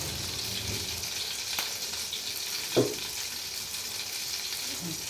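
Spices sizzling in hot oil for a mixed vegetable and prawn curry: a steady, hissing fry with a soft clink of a utensil partway through, continuous and close.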